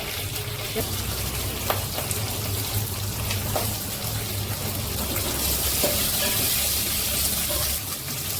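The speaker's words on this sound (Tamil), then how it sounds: "இப்போ நான் ஒரு கட்டு கோங்கூராவுக்கு நான் ஒரு 12 பச்சை மிளகா அதை இதில் போடுறேன்" Green chillies frying in oil in a kadai with a continuous close sizzle, a few stirring clicks, and a person talking over it.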